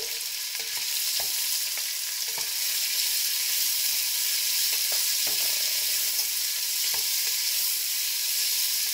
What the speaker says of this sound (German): Kurz rosten, kurz anbraten.